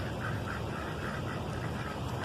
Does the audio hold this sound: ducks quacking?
yes